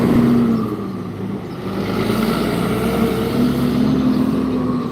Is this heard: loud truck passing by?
yes